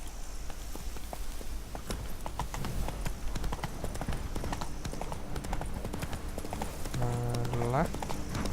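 Horse hooves clip-clop steadily in The Witcher 3 video game, a continuous rhythmic walking beat under game ambience while someone talks over it throughout.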